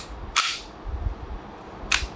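Umarex Beretta M92A1 4.5 mm blowback air pistol fired twice, each a sharp, loud, close snap with a quick slide clack, spaced about a second and a half apart in a quiet room.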